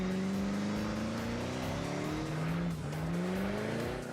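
A car on bald rear tires spins and skids in a sustained, steady tire squeal blended with revving engine drone, fairly loud, without any talking.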